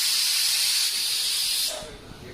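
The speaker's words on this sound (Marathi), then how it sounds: "कुकरच्या शिट्या होतातच एका बाजूला" Steam hisses loudly and steadily from a pressure cooker's whistle in a home kitchen during a mutton and bhakri meal, then cuts off sharply near the end, leaving quieter room sound.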